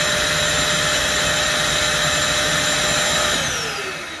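A stainless steel 6 gallon wet/dry shop vacuum runs as a blower, emitting a loud, steady high-pitched whine and rushing airflow that begins to wind down and fade in the last second.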